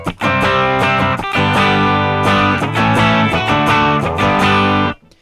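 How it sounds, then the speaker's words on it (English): Electric guitar run through a distortion effect in Ableton Live, strummed chords played lightly and then harder so the grit swells, loud and close with no voices, ending in a brief fade. "you can hear that I have control over how much distortion is in the signal"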